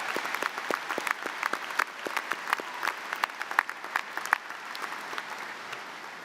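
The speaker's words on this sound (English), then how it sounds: "Let's give them a round of applause." Steady applause from a crowd at a high school graduation ceremony honoring teachers, sustained clapping with scattered sharp claps throughout.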